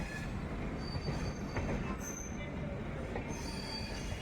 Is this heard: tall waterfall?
no